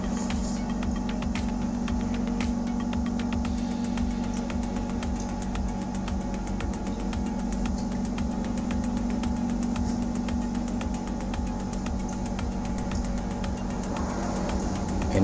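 A 2013 Toyota Yaris TRD Sportivo with a replaced aftermarket muffler idles steadily, giving a constant low engine hum with no revving and no talk throughout.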